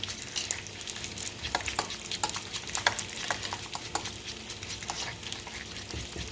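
Food is mixed in a pan while cooking pan-seared garlic steak, a soft continuous sizzle under quick, irregular scraping and tapping strokes from the stirring utensil, close and fairly quiet.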